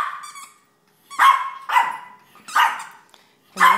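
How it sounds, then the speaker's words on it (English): A dog barks repeatedly at close range, four or five sharp yappy barks spaced about half a second apart with brief pauses. "Rennie stands here and barks at her"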